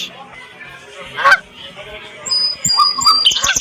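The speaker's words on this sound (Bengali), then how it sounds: "সামনে কিন্তু একটা হাঁস" A duck honks in the Meena-2 video game, a few short nasal calls rising over quieter game sounds and chirpy tones.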